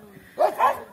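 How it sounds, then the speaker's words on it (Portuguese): Dogs on a rural farmyard in the Brazilian backcountry let out a pair of quick barks close by, with brief quiet before them. "Os cachorros estão ali, ó."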